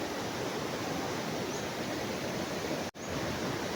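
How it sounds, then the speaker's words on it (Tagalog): Strong water pours through the Maasin dam in Brookes Point, Palawan, during a flood, a loud unbroken roar with one brief dropout near the end. "so malakas na yung tubig doon sa baba ngayon"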